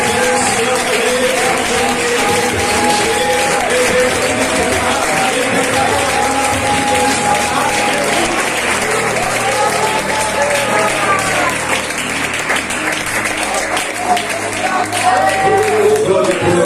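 A church congregation at a service in an indigenous village applauds steadily, with continuous clapping throughout and voices speaking and singing over it.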